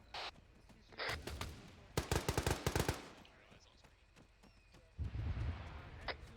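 Rifle rounds fired in a military platoon field training exercise: several sharp separate shots, then a quick burst of about four to six reports close together, with radio-style talk between them outdoors.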